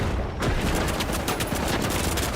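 Automated turret gunfire in the video game The Finals: a rapid, continuous stream of loud, close shots hammering without pause over a dense noisy background.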